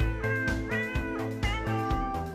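A singing cat in the video game Five Nights at Freddy's: Scott in Space meows a melody in a string of clear, tuneful, sustained notes over a backing beat, with no talking.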